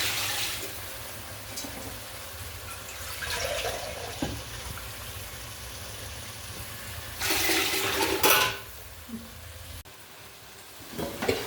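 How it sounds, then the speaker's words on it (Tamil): Water is poured into a pot with a loud splashing rush partway through, over a steady background hum and faint kitchen sounds. "தண்ணி இதில் வந்து ஒரு சொம்பு எடுத்து போட்டுக்கணும்."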